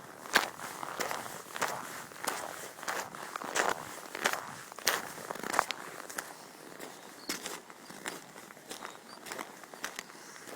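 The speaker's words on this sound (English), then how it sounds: "More walking, more snow," Footsteps crunch through cold, frozen snow in a steady walking rhythm, each step a sharp, close crackling crunch, alone with no voices.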